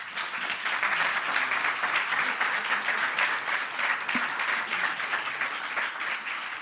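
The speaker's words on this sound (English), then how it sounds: "I would like you all to offer them a huge round of applause" A crowd at a hackathon closing ceremony breaks into sustained applause, an even, dense wash of clapping holding steady throughout with no talk over it.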